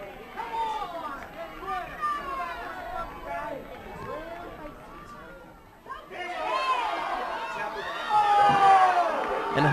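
Crowd at a 2012 Kansas 6A boys high school soccer championship, Wichita Northwest vs Topeka-Washburn Rural, a mass of voices and shouts rising and swelling toward the end, with nearby talking over it.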